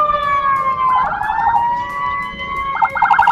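An ambulance siren wails loud and close in rush-hour traffic in Makassar, a steady tone shifting into rapid warbling yelps, with traffic rumbling underneath.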